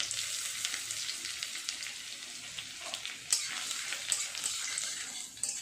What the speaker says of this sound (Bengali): এবার এই তেলের মধ্যে দিয়ে দেব আদা কুচি আর রসুন কুচি